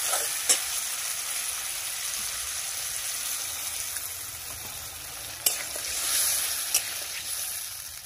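A small amount of water goes into a frying tomato and onion masala for a fish curry, giving a continuous hiss of sizzling with a few sharp clicks from the pan and spoon.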